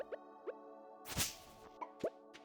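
Water poured into a pet's bowl in the Stardew Valley video game, heard as a few short, bright plopping blips spaced apart over soft, steady background game music.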